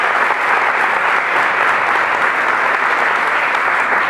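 Studio audience applauding a youth-made Uruguayan program, an even, continuous wall of clapping at a steady level throughout with no talk over it.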